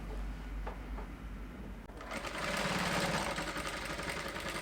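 A sewing machine stitches a dart into a corset dress lining, starting as a faint hum and building into a steady, rapid mechanical whir that runs to the end.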